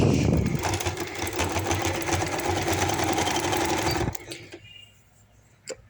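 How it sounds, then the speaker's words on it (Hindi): A sewing machine stitching a joint lace strip along its inner side, a loud, steady rapid chatter of the needle for about four seconds before it stops, leaving a faint room hush and a single click. "पट्टी के अंदर की तरफ से मैं सिलाई लगा लूँगी।"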